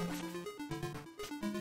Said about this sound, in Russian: Получение урона — это звук из Чип и Дейла второго.